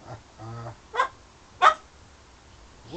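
A dog outdoors somewhere in London gives two short, sharp barks a little over half a second apart, faint and distant, after a brief whining tone.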